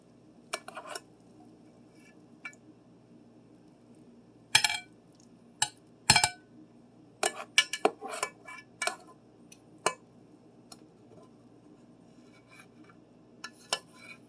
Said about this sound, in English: Carefully take it out of the Dutch oven as best as you can.